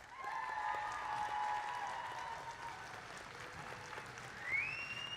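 Crowd applauding at a robotics competition opening ceremony, sustained faint clapping heard from a distance under a steady tonal hum, with a rising whine near the end.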